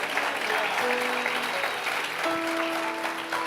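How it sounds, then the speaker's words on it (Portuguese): A church congregation applauds loudly during a sermon, continuous full clapping with sustained musical tones, likely a keyboard, held underneath throughout. "aplauda mais forte, se isso faz sentido para você."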